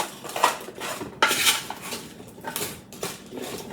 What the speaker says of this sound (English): I'm going to give those a stir.